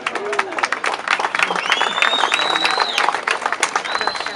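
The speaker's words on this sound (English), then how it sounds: "She gets a bigger cheer than you do" Audience cheering and applauding for Lucy, a longtime wife being honored at a company celebration; dense, steady clapping and crowd noise with whoops and a whistle-like cheer rising through the middle, voices mixed in throughout.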